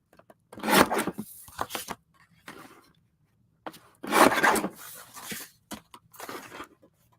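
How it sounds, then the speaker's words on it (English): A cutter trims the edge of a masterboard art card in short, close rasping strokes, two stronger bursts with a few lighter scrapes between quiet gaps. "Let me trim that edge and then I'll go back."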